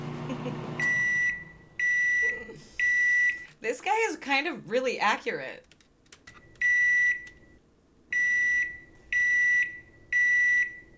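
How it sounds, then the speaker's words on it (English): Microwave oven beeps sound in short, loud repeated bursts, three before and four after a stretch where someone speaks in the middle, late at night in a home kitchen. "can you turn the fucking microwave off?"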